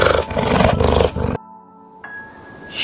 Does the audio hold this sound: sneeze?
no